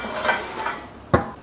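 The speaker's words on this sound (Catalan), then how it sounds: "Posarem els espinacs en una olla" Spinach dropped into a metal cooking pot in a home kitchen, with soft rustling and a single sharp clank of the pot near the end, close and fairly quiet.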